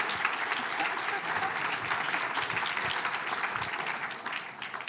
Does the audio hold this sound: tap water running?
no